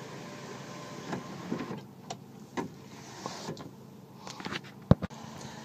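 The power sunroof motor on a 2013 Kia Forte Koup SX closes with a faint, steady mechanical whir and light ticks, ending in a sharp click near the end.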